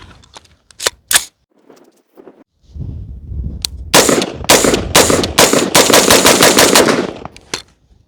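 AR-15 rifle firing a full magazine until the bolt locks open, with a couple of loud separate shots followed by a rapid, very loud string of shots that stops abruptly and one last report.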